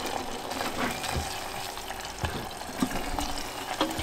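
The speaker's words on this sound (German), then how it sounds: "Das ist jetzt Butter mit Tomatenmark. Das wird jetzt so ein bisschen angebraten." Butter and tomato paste fry with mint in a pan, giving a soft, continuous sizzle with scattered crackles and occasional scraping stir noises, fairly close and on its own without voices.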